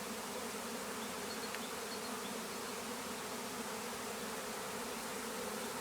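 A swarm of bees fills the air with a dense, steady buzzing that holds at an even level from start to finish. The hum is close and continuous, with no voices.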